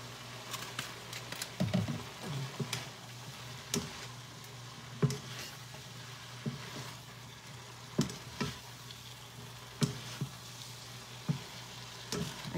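Pancit gisado noodles with soy sauce stir-fried in a small wok, a constant low sizzle punctuated by regular sharp utensil knocks and scrapes against the pan.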